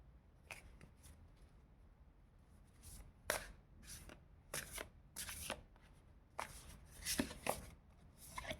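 Tarot cards are shuffled and drawn in a quiet room, with soft riffling at first and then a run of crisp, close snapping flicks and slaps coming in irregular bursts.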